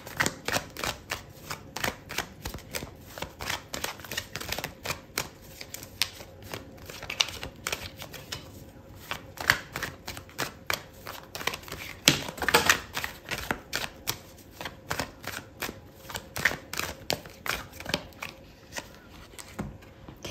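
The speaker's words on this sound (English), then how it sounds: "I'm going to pull out another card for you" Tarot cards are shuffled and drawn, a rapid run of crisp snapping and fluttering clicks in irregular bursts, close and fairly quiet, continuing for about twenty seconds.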